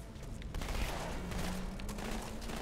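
Rapid automatic gunfire from the Halo 2 video game rattles in a steady burst against the game's background hum, mid-distance and moderately loud, with no speech over it.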